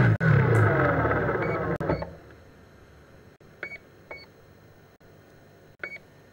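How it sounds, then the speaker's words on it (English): Beeps from a system device on an autonomous airship with its motor off: a louder rumble fades out, then three or four short, sharp electronic beeps sound at spaced intervals over quiet background. "You will hear a beeping sound of a device."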